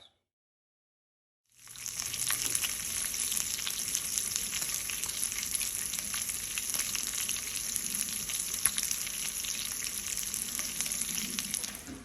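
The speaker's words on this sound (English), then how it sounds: "we've got just a little bit of our bacon fried up here" Slices of home-cured, smoked bacon frying in a pan, starting after a short silence and then a loud, steady crackling sizzle with constant spattering pops throughout.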